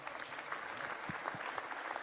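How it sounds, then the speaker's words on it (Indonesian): Dense applause from an audience at a stage event with a talk show, a steady wash of clapping that fills the moment without cheering or talk. "Tepuk tangan sekali lagi Bapak Ibu."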